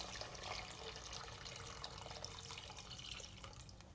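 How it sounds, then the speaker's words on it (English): Plain water poured into a pot holding a whole chicken in soy sauce braising liquid, a steady close gush and splash that eases slightly toward the end, without any voices. "As well as 1 liter of normal water."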